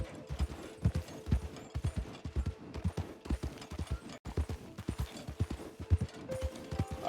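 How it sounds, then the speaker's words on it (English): Hooves of several horses clip-clop past in a video game, a brisk, uneven patter of hoofbeats at moderate distance that keeps going throughout, with faint mechanical clinks in the background. "horses over there. They're going the other way."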